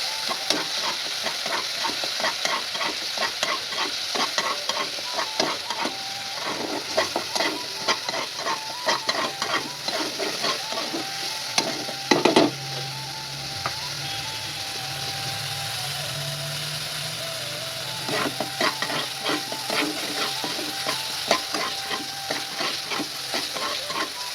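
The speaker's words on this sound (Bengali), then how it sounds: "হালকা জল দিচ্ছি, মশলাটা কষিয়ে নিচ্ছি জল দিয়ে।" Spice paste cooking down with a little water in a pan at a village home, a continuous close sizzle with frequent stirring scrapes and clacks, plus a steady low hum from about the middle onward.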